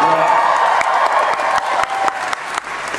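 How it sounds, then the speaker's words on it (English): Convention panel audience applauding for George Takei at ECCC 2012, dense loud clapping from a large crowd with scattered cheers, sustained and gradually thinning. "thank you for that applause"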